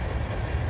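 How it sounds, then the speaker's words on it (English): A long train rolls past, a brief low steady rumble with faint rhythmic clatter from the cars, fairly close and continuous for under a second. "Very long train."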